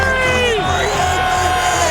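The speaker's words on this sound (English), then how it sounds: "Hostile crowd. Gotta love it, baby." A hostile football stadium crowd in Philadelphia roars and yells in a loud, continuous wall of noise, with individual shouts and whoops rising and falling through the din.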